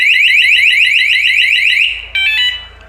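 A Roots Gladiator III anti-theft alarm fitted to a Royal Enfield Reborn Classic 350 motorcycle wails loudly and steadily in rapid repeating warbles, then breaks off into a few sharp stuttering beeps before falling quiet.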